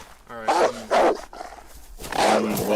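Dogs attacking in the DayZ video game: several loud, close, harsh barks and snarling bursts in quick succession, rough and aggressive, with the last ones drawn out into growls.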